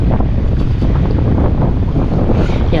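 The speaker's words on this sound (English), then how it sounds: "And that wind is howling, man." Strong storm wind at a St Pete, Florida beach batters the microphone in a loud, continuous roar, with surf and rushing water churning underneath.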